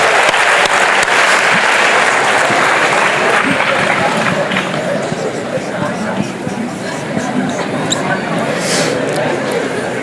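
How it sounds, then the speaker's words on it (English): Audience applause at a talk, many hands clapping loudly and continuously, easing slightly midway with crowd chatter mixed in. "Let's give a huge round of applause."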